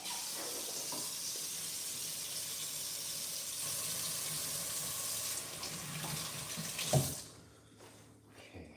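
A kitchen tap runs steadily into a sink as something is rinsed during home cooking, a continuous close hiss of water that cuts off abruptly near the end, leaving a quiet room.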